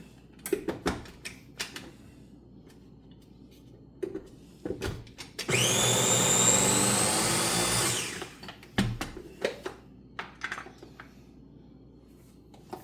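A food processor shredding potatoes for hash browns runs in one loud, steady whirring burst of about two and a half seconds, framed by scattered clattering knocks and handling noises.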